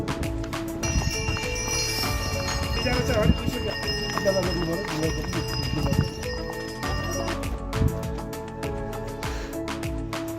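Horse hooves clip-clopping along a mountain trail in Mustang, Nepal, with a horse neighing and bells jingling, steady and fairly close, mixed with people talking over the footsteps.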